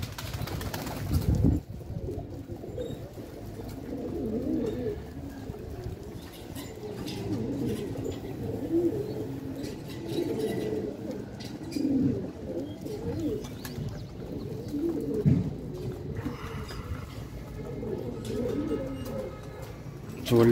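Pigeons coo in soft, low repeated calls across the whole stretch, with occasional wing flaps and chirps, while someone talks over them in Moroccan Arabic.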